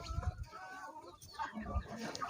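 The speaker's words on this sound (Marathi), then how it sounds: "आता ही कोंबडी याच्यातून निघली" Hens cluck repeatedly in a poultry coop on a small chicken farm, a close, busy run of short clucks with faint background stirring.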